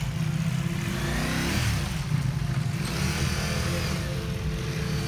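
A 2022 Ducati Multistrada runs through an off-road obstacle course, its engine rumbling loud and close throughout, with throttle swells and a brief revving rise near the middle.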